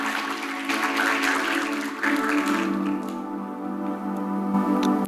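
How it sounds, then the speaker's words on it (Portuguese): A church audience claps for its athletes, dense applause over a steady humming tone that thins out midway, leaving scattered claps against the drone. "Uma salva de palmas aí para os nossos"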